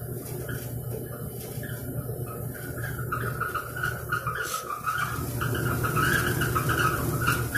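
A Kenmore washing machine with a clutch fault and clothes left wet gives off an odd, steady mechanical drone with a low hum and mid-range whirring, continuous and moderately loud for several seconds with no talking.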